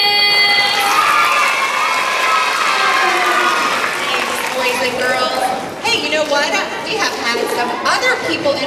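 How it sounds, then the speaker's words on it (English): A school assembly crowd of children claps and cheers loudly, with high shouts and excited chatter over sustained applause that carries on for several seconds and turns more scattered toward the end. "Give them a round of applause."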